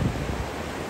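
Huge ocean waves breaking in the surf, heard as a steady broadband rush with strong low rumble and some wind buffeting the microphone, with no talking.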